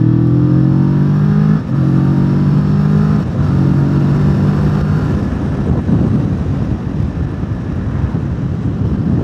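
A Kawasaki Vulcan S 650 motorcycle engine revving loud and close when the throttle opens, a deep, steady rumble with strong harmonic drone that rises and dips slightly in pitch, with no talking.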